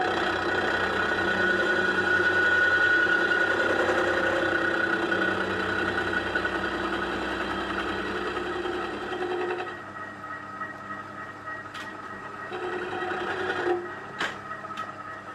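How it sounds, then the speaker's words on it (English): Milling machine taking a 1 mm conventional milling cut on a hydraulic breaker bracket from a 3-tonne excavator, a steady humming whine with a grinding cutting tone that eases after about ten seconds, followed by a few sharp clicks. "And we'll do conventional milling this time."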